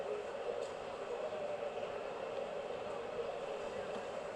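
Schwarzkopf roller coaster trains in the NoLimits 2 simulator roll along track with a steady, dense rumble and hiss that holds constant at moderate loudness.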